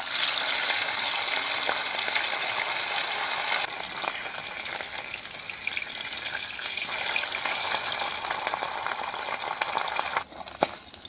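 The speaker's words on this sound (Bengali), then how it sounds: "তেল গরম হয়ে গেছে, এবার মাছগুলো ভেজে নেব।" River chanda fish frying in hot oil in a wok over a stove, a steady loud sizzle and crackle that eases slightly partway through and keeps bubbling throughout, with no voices.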